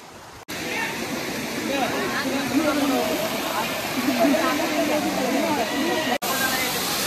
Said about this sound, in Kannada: ನೋಡ್ರಿ ಇದ ಫಾಲ್ಸ್, ಬೈಲಪ್ಪನ್ ಫಾಲ್ಸ್ ಬೆಳಕತ್ತಿದ್ದ.